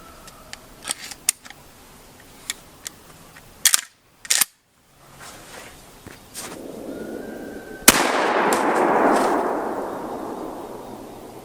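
A 12 gauge shotgun fires double-aught buckshot and then a 1.25 ounce slug, giving sharp close reports separated by pauses, with smaller clicks and handling noises between the shots.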